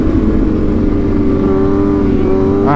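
Stunt motorcycle with a torquey engine revving loudly and close, a steady continuous roar with slight pitch swells and a rising whine at the very end.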